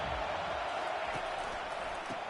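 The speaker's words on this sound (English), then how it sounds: "Listen to the crowd energy here in the early going. This is a tough environment for visitors." Steady, dense crowd roar fills a college football video game stadium early in the FSU vs Tennessee matchup, a continuous broadband wash with no clear peaks and no voices on top.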